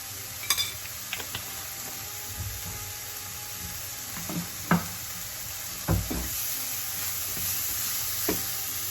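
Spices with cumin and vegetables for eggplant and bulgur toasting in a pan, a quiet steady sizzle broken by occasional sharp knocks and scrapes of a utensil, close by with no talking.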